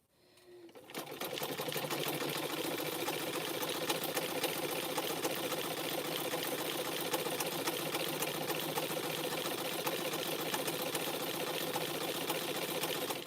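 A sewing machine stitches rope for making tea cups, starting after a brief pause and then running in one fast, steady, even-paced stream of needle clatter, close and continuous.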